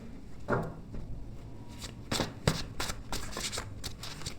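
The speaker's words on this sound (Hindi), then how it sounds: "मैंने कुछ डेक निकाल के रखे हैं यहाँ पे" Decks of playing cards being handled give a series of quick, soft riffling and flicking bursts at close range, irregularly spaced over a few seconds.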